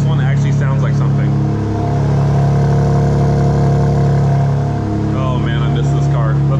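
A 2024 BMW M2 idles with its exhaust valves open, a loud, close, steady engine drone with a deep rumbling tone and slight swells in pitch, while people talk over it.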